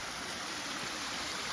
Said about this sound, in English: Baby waterfall.